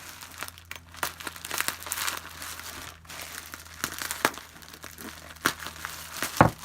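Close, crackly crinkling and rustling of plastic packaging as a doll's head is unboxed, irregular bursts of crumpling and tearing at a moderate level with no talk.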